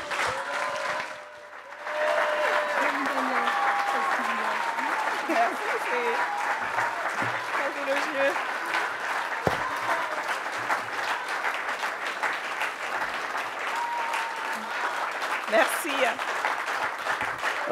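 Political gathering audience warmly applauds a guest MP's arrival, steady loud clapping with scattered cheers sustained throughout after a brief quiet moment at the start, a voice briefly speaking over it.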